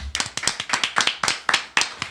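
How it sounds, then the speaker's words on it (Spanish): A small group claps close by for a guest on a talk show, a quick run of crisp, fairly regular hand claps with no voices. "Aplauso para Manu."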